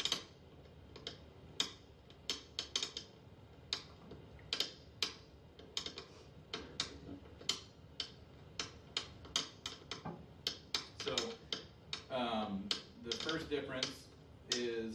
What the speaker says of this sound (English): here's the sound of second crack